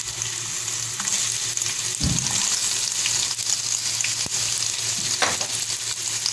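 Onions dropped into hot oil in a pot sizzle and crackle steadily, close and loud, with a stirring scrape around the two-second mark and no talking.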